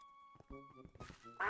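A cartoonish duck in a modded video game lets out a few quick, nasal quacks with a dull thunk from the hit, fairly quiet and closely spaced, ending in a brighter burst of sound.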